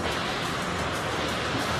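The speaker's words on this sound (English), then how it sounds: "It's the sound of the river running through the bottom floor." Constant loud rushing floodwater roars without a break through a building's ground floor after a storm, a dense broadband torrent filling the space.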